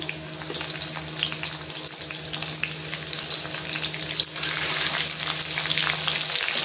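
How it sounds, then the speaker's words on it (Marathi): Slit green chillies and finely chopped garlic hit hot oil in a loud, continuous crackling sizzle that swells noticeably partway through. "तेल गरम झालेले आहे, त्याच्यामध्ये उभी चिरलेल्या 2 मिरच्या टाकून घेते, बारीक चिरलेले लसूण"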